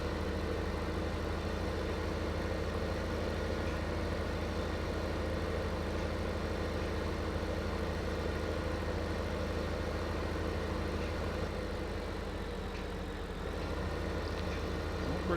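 A tractor engine idles in the video game Farming Simulator 15, a steady low-pitched drone holding constant and close throughout.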